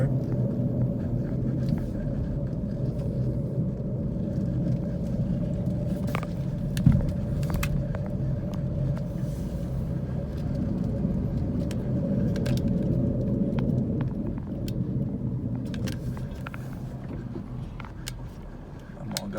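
A car drives the roads of Campbell County, Tennessee, around Caryville, Jacksboro and La Follette, with a steady low engine and road rumble heard from inside the cabin throughout, plus a few faint clicks and rattles.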